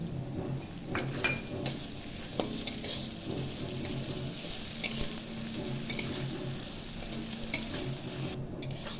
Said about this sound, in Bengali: এবার ডালটা ভেজে নেব এই ফোড়নে।